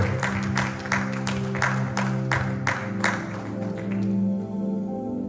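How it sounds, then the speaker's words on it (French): A church congregation claps and cheers for the Lord in a series of loud, rhythmic bursts of applause that fill the hall before fading out near the end. "Acclamons l'Éternel très fort."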